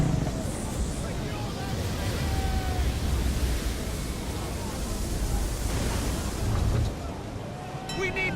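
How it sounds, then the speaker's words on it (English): Storm at sea in Assassin's Creed III, with a steady loud roar of wind and crashing waves around a sailing ship, broadband and continuous throughout, with a faint voice briefly at the end. "Now that's a storm."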